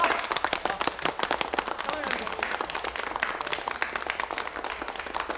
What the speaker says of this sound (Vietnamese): Vỗ tay nhiệt liệt vậy cho thấy mọi người đều đồng ý.